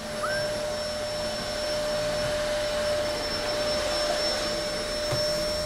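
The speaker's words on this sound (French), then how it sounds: "Elle passe l'aspirateur à l'étage de monsieur." A vacuum cleaner drones steadily on the floor above, a constant loud whine with a high tonal hum running unbroken throughout, no talk.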